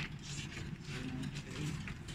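Retention buttons on a PC heat sink being twisted, giving a quiet, steady plastic ratcheting and clicking texture that runs close and continuous for about two seconds, with no voices.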